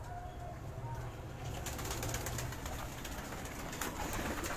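Karachi high-flyer pigeons in a breeding loft coo softly and continuously, with some bright rustling or fluttering bursts in the second half, moderately close.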